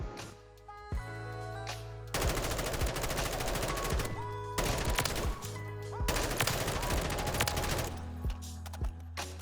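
M4 rifle gunfire in the video game Modern Warfare 3, with repeated bursts of rapid automatic shots and sharp single cracks in a dense, loud sequence over background game sounds.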